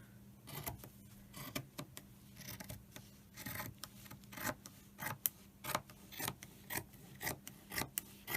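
Scissors trim quilt fabric in a run of quiet, steady snips and rasping cuts, close and faint, with no voices.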